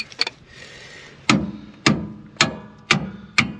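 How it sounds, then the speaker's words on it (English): A few light clicks, then five sharp hammer strikes on metal at a steady, unhurried pace while replacing rear shocks on a 2000 Ford F-250, each ringing briefly before the next, close and loud. "I'm gonna tap it with a hammer"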